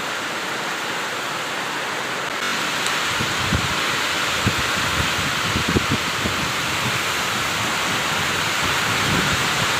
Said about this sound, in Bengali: ঝড় বৃষ্টি একসাথে হচ্ছে